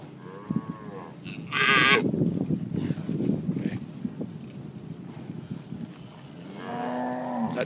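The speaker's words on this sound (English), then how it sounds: "Good ranch cows." Braford and Brangus ranch cows moo in a herd, with several drawn-out lows and bleat-like calls near and far, while someone talks over them.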